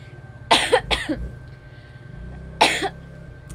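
Two sharp coughs close together, then a third single cough after a pause, close to the mic, over a low steady hum.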